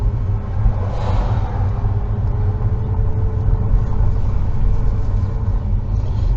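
A car drives along a downtown street in Concordia, Kansas, heard from a dash cam inside as a loud, steady low engine and road rumble with no pauses.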